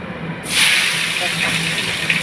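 Chopped onion dropped into hot oil with bay leaves, a sudden loud hiss and sizzle that bursts in after a brief pause and keeps crackling steadily, with a voice speaking over it.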